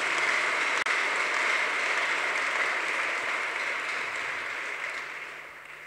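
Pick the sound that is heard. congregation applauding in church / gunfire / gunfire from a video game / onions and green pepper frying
congregation applauding in church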